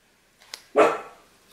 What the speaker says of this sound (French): Quoi, sweetie aboie?